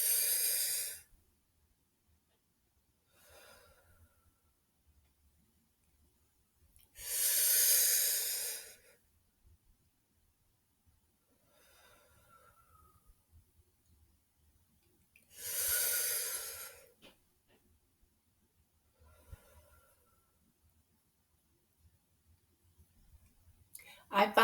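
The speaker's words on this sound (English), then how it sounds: "We're going to take 3 deep breaths." Three slow, deep calming breaths, each a long soft airy inhale or exhale spaced several seconds apart, close and quiet with near silence between them.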